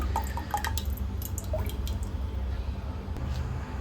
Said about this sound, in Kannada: ನೀರು ಈ ರೀತಿಯಲ್ಲಿ ಕುದೀತಾ ಇದೆ.